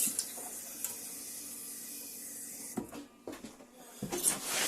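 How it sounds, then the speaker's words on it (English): Water runs through the taps of a Compass Corona caravan after the pump is switched on, a steady close hiss broken by a few spluttering bursts near the end. "we can turn the pump on and then run the water through the taps, making sure there's no air in the system"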